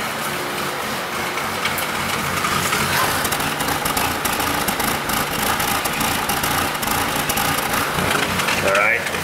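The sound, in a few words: car engine idling roughly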